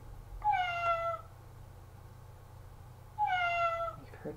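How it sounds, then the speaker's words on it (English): A cat gives two clear, fairly close meows a few seconds apart, each a drawn-out falling cry over a low steady hum, with no talk. "Was our cat. Meow, meow."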